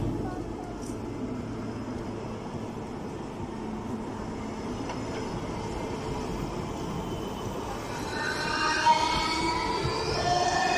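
Lastochka electric train in motion, a steady low rumble of wheels and cabin noise heard from inside, with a rising squeal of wheels near the end.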